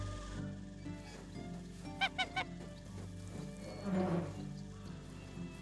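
Geese honk in the farming game Medieval Dynasty, a quick burst of three sharp honks followed by a longer, louder cluster of honking a moment later, over a steady droning game background.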